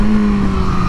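A Nissan 350Z with big aftermarket exhaust pipes gives a steady, loud engine drone with a strong low hum, heard close and continuous with no talking.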